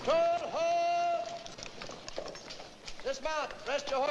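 Mounted patrol horses clop in on hooves in a Western film scene, the steady hoofbeats sitting under loud shouted voices of people talking.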